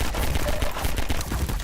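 Rapid pistol gunfire in the video game Half-Life 2, a loud, dense burst of repeated shots crackling close together with no break.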